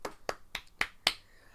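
A single person claps five times in a slow, uneven rhythm, each sharp clap standing alone against a quiet room during a podcast recording.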